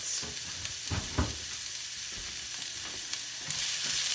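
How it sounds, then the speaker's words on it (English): Onions and garlic browning in a frying pan give a steady, moderately loud sizzle with a few soft scraping knocks from stirring, and no voices. "You add onions and garlic, and then you brown that until the onions kind of become, you know, translucent."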